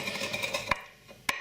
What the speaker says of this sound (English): All I'm interested in doing is gently breaking the peppercorn kernels up